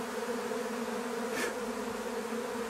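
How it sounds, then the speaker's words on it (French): A runaway swarm of honeybees flies overhead as it settles into a cluster, a dense, continuous buzzing hum holding steady and fairly close, with no voices. "L'essaim est parti"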